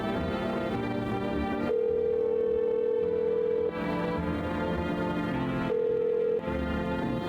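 Phone ringback tones from the video game No, I'm Not a Human: two steady electronic tones, one long and one shorter, play over continuous background music while a call to a neighbor connects.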